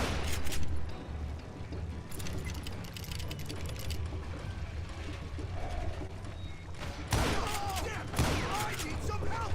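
Gunfire in a video game, a dense, continuous clatter of shots and mechanical noise throughout, with louder bursts near the end.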